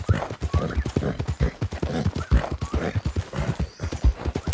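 Horse hooves clip-clop in a steady rhythmic trot while riding in the video game Red Dead Redemption 2, close and fairly loud, with an occasional whinny and no talk.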